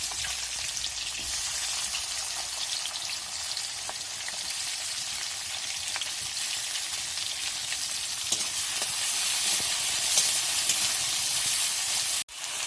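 Onions frying hard with pork and potatoes, a loud, dense and continuous sizzle that barely changes, with faint stirring clicks underneath and a brief dropout near the end.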